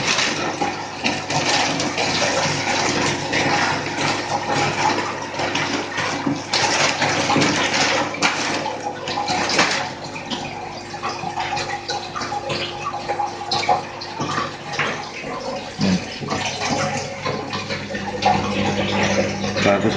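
Water from a koi quarantine tank being poured out, a loud continuous gushing splash close by, steady throughout with slight surges.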